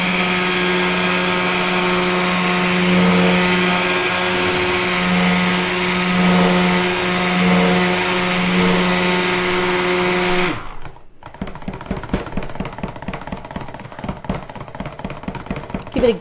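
A stick blender churns orange and ginger soap batter in a steady, loud drone for about ten seconds, then cuts off, leaving quieter clatter and handling noises.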